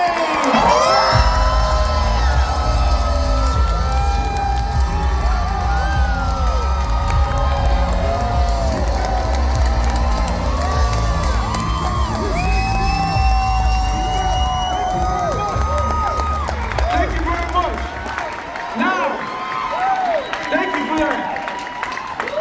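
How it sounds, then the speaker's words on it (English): A live audience at a David Goggins motivational event in Washington, DC cheers, whoops and claps loudly and steadily, with excited shouts rising over the roar before it begins to fade near the end. "Get out of your seat. Put your hands together for David Goggins."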